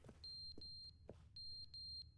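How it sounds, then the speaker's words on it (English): Repeated short, high electronic beeps from a smoke detector warning of a low battery in The Stanley Parable, coming in quick pairs and triplets over a faint low hum. "now you need to replace the batteries in your smoke detector?"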